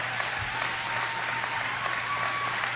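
A large crowd at a Florida political event breaks into sustained applause, a dense, even wash of clapping that holds steady throughout with no talk over it.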